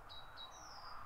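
Near a long barrow, a bird gives a few faint, thin high whistled chirps, two short notes and then a longer drawn one, over a low hum of distant road noise.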